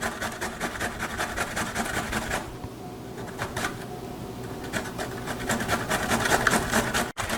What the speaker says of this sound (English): I'm just going to start grating the cucumber with the box grater